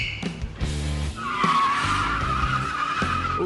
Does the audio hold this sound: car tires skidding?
yes